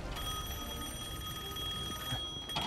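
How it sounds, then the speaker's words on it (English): A telephone rings in the video game Devil May Cry 5, a steady electronic bell tone that holds without a break, moderately loud, with no talking over it. "That phone's ringing."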